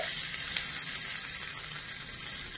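Dried red chillies and curry leaves in hot oil sizzle steadily as the tempering is poured into a peanut chutney, a continuous close crackling hiss with no voices.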